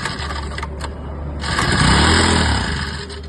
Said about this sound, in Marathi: अशा प्रकारे एक किक मध्ये पंप स्टार्ट होऊन जाईल